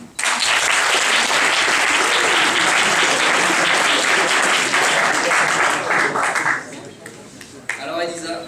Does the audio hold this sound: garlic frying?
no